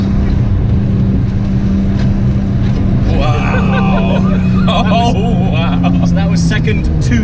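A BMW Z3 M Coupe track car accelerates hard from second into third gear, a loud close engine drone with rising rev sweeps, under excited talking from the occupants.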